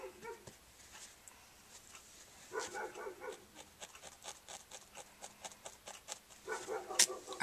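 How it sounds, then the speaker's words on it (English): A dog out back behind the house gives faint, scattered yips, whimpers and short barks at a distance, coming in small bursts over a quiet room. "That is my dog out back. If you hear barking"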